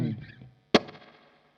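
A Hurricane guitar amplifier's reverb is demonstrated: a note fades out, then a sharp struck chord rings into a long, decaying reverb tail, played alone.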